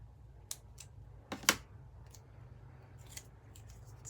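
Scissors snip through paper for a craft project, several short crisp cuts spaced irregularly and heard close in a quiet room, with one louder double snip in the middle.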